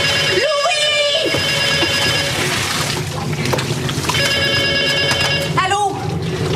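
An old-style telephone bell rings twice in bursts of rapid trills, loud and close, over a background of running water and household noise, with a voice speaking between rings.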